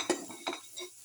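A spoon stirs turmeric and coriander powder into a garlic, potato and tomato rice casserole, giving three light clinks against the pot, close and alone.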